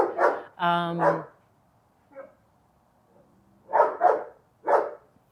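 A dog barks in several short, sharp bursts spread across a few seconds, fairly close and loud, with a person's voice briefly heard between them.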